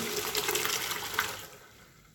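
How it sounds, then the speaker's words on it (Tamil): Boiled macaroni water pours steadily through a strainer in a close, loud rushing gush that thins and fades out near the end. "இந்த மாதிரி இதை வந்து வடிகட்டிடுங்க."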